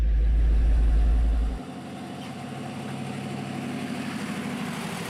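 A Soviet ZIL 130 dump truck engine runs while raising its body through a hydraulic pump on the power takeoff. A loud, deep rumble at first drops to a steady, close idle-like drone.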